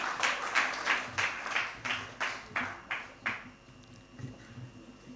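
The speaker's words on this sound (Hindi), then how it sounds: "आपकी तालियां सिर्फ ध्वनि के लिए होनी चाहिए।" A Hindi poetry event audience gives a short burst of applause with rhythmic group clapping, fairly distant and moderately loud, fading out toward the end.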